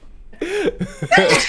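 A single short sneeze bursts out close by, followed by a couple of brief breathy aftersounds.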